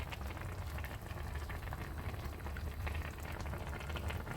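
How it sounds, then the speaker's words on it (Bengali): Mixed vegetables for Bengali shukto boil uncovered in milk, a soft, steady bubbling and simmering hiss with no voices, quiet and continuous. "চলো এবার সবজি দেখতে পাচ্ছ বেশ ভালোভাবেই ফুটছে।"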